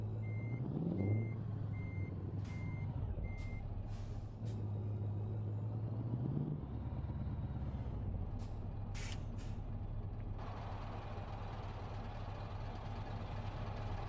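A Scania R500 truck in Euro Truck Simulator 2 rumbles with a low engine drone under a regular reversing beep, rising revs, and a sharp air-brake hiss, followed by a steady hiss.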